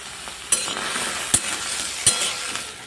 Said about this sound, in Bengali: কাঁচা লঙ্কা একটা পেঁয়াজ আর কয়েকটা রসুন আর একটু আদা এগুলোকে সুন্দর করে একটু ভেজে নেবো